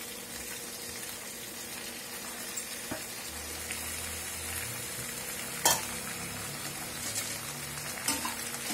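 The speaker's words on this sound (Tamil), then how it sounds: "3 இல்ல 4 டீஸ்பூன் எண்ணெய் சேர்த்துக்கோங்க" Greens frying in three to four teaspoons of hot oil for thuvaiyal, a continuous gentle sizzle with a few sharp stirring clinks, close and moderately quiet, no voices.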